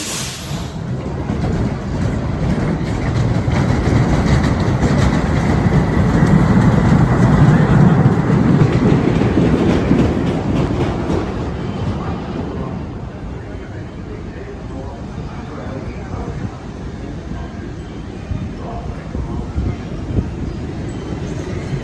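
Grand National wooden roller coaster train rumbling along its track at Blackpool Pleasure Beach, a loud sustained roar that builds then fades into a steady distant rumble, with wind buffeting the microphone.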